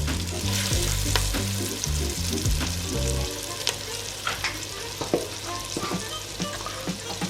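Pieces of goat meat fry in a pot outdoors for a spicy curry, giving a steady sizzle broken by clattering pot and stirring knocks, close and fairly loud, with nobody speaking.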